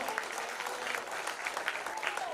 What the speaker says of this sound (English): Y'all clap it up for these young men in the league today.